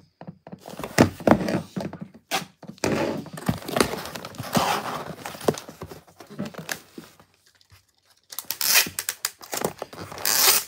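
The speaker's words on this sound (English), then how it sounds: "I hate this tape gun." A packing tape gun seals a shipping box, with irregular bursts of screeching tape pulls, crinkling and hollow cardboard thumps close by, separated by brief quiet gaps.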